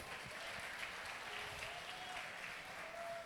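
A church congregation during a Brazilian worship service applauds together. The clapping is faint, distant and evenly spread, forming a soft continuous wash for a few seconds.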